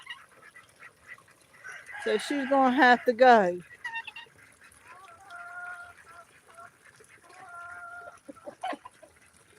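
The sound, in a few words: flock of hens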